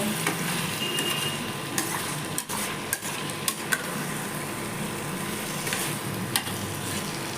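Chicken curry sizzles in a pan while being stirred after garam masala goes in, a constant frying hiss broken by sharp spoon-on-pot knocks and scrapes at irregular moments, close and moderately loud, with no talking.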